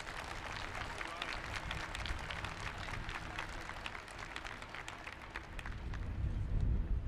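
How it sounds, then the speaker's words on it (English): A crowd at the 2025 Randall High School graduation claps continuously, a dense wash of applause that swells toward the end, with voices faintly mixed in. "giving them a well-deserved round of applause for their outstanding service and unwavering commitment to excellence"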